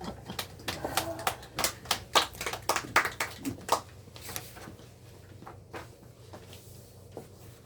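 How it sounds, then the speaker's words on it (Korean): Small church congregation clapping for an elder during a Bible lecture, a sparse run of sharp, uneven claps that thins out and fades to a few scattered ones. "우리 장로님 한번 박수 한번 쳐주세요"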